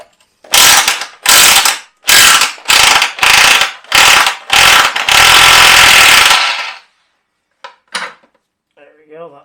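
A wrench ratchets and loosens brake lines on the rear independent suspension of an early Jaguar XJ-S, in a loud series of about seven sharp, rapid clicking bursts, then a longer grinding run and a few faint knocks.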